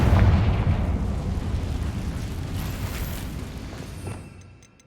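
A Confringo fire spell detonates in the Hogwarts Legacy video game on PS5, a loud low explosive boom that rumbles and slowly fades over several seconds, with no talking.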